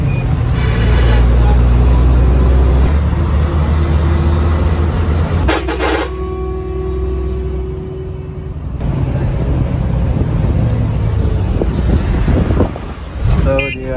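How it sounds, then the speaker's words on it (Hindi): Non-AC Baloch bus on the road from Lahore to Faisalabad: steady loud engine and road rumble fills the cabin throughout, with a few horn toots and a brief shift in the noise midway, and voices murmur underneath. "रवाना हो रही है गाड़ी और तकरीबन हर शहर च स्टॉप किया गाड़ी ने"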